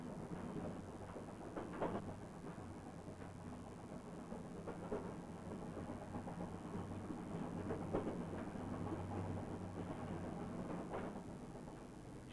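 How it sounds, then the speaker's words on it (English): An overnight passenger train travelling from Jaipur to New Delhi gives a quiet, continuous low rumble with faint rhythmic clatter, heard from inside and fairly distant throughout. "It is a 12-hour train ride into New Delhi through the night."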